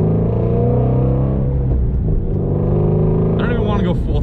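Ford Mustang GT350 with a flat-plane V8 rumbles steadily up close, a loud continuous engine drone with a brief rise in pitch near the end.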